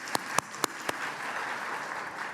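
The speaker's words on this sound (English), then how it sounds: "Lots of clapping, let's do it." Audience applause at a gala: a few loud separate claps at the start, then a steady, moderately distant wash of crowd clapping.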